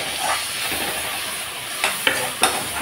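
Chopped onion and tomato fry in a pan with a steady close sizzle, broken by a few sharp stirring scrapes.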